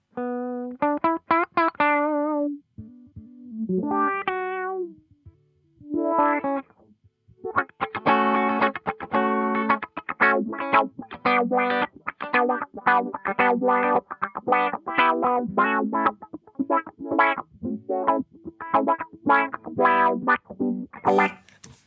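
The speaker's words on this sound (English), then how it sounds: "I think it's a low pass filter" A Meris Ottobit Jr bitcrusher pedal plays choppy, synth-like staccato notes through a low-pass filter sweep, in fast rhythmic bursts after a few sparse phrases, loud and close with no talking.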